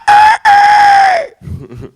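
A person imitates a rooster crowing, two loud drawn-out calls with a brief gap, followed by a few low mumbles.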